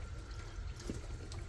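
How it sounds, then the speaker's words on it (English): Water drains from the upper fitting of a swimming pool pump during winterizing, a soft, steady trickling and gurgling that stays faint and continuous for a moment. "That'll drain the water from this upper fitting."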